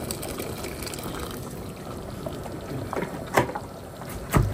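Water poured into a pot of spicy bhuna khichuri cooking on a rainy day: a steady, close splashing and trickling with a few louder sloshes near the end.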